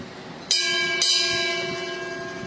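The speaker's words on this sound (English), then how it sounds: "The toll of the ship's bell" A ship's bell is struck twice in quick succession at a naval burial ceremony, each sharp metallic clang ringing into a long, clear shimmering decay with no talk over it.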